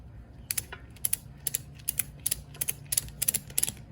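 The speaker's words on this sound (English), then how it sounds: "Put the ratchet strap in here, pull it until it's tight" A ratchet strap being cranked tight, giving a quick run of sharp, dry clicks in uneven bursts that sound close and fairly quiet with no talking.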